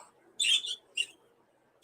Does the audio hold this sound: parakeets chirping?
yes